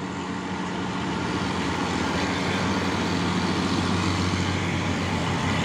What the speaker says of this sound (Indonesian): Masuk lagi satu unit truk trailer Hino ini ya.